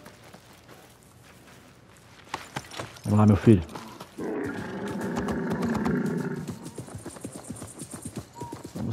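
Horse hooves clattering in the game Assassin's Creed Mirage, a burst of rhythmic hoofbeats followed by a stretch of steady galloping, with someone talking over it.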